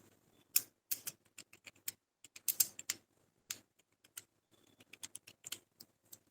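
Computer keyboard typing while data is entered into Tally accounting software, quiet irregular bursts of key clicks with short pauses between runs, close and clear with no talking.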